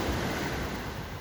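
Ocean waves wash steadily onto a beach in the Philippines under a breezy wind, a continuous broadband surf roar with no voices.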